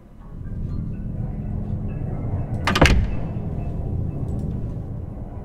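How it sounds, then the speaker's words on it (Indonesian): A creaky door swings open in a horror video game set in a hospital, giving a brief sharp scraping creak over a dark, rumbling ambient background. "Suara buka pintunya aja serem banget loh."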